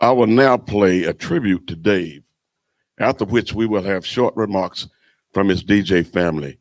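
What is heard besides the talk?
No everyday noise stands out behind the speech.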